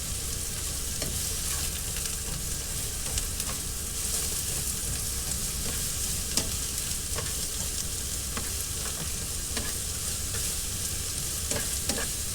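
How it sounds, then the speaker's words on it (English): Food seasoned with salt and pepper fries in a pan in a small home kitchen, giving a steady, dense sizzle with faint stirring clicks throughout and no voices. "I'm going to fry these all up nicely."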